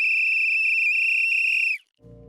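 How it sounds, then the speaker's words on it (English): A loud, sustained referee-style whistle blast signals the start of a race, holding steady for nearly two seconds before cutting off, followed by a brief pause and a low rumble. "he does have a whistle that signifies when you guys start"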